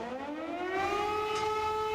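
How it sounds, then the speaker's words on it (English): Air raid sirens across eastern Ukraine wail in a steady rising tone that swells louder after the first moment and holds, moderately distant, with no talk over them. "Air raid sirens filled the air in parts of eastern Ukraine Friday"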